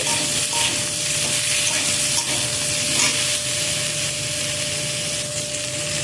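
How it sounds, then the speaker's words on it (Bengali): Potatoes stir-fried with dried red chilies and whole cumin seeds sizzle steadily in a pan, with a continuous close frying hiss and scraping stirring sounds throughout and no talking. "দুটো শুকনো লঙ্কা দিয়ে দিলাম, আর দিয়ে দিলাম গোটা জিরে, দিয়ে দেবো কেটে রাখা আলু, সব কিছুকে নেড়ে নেব।"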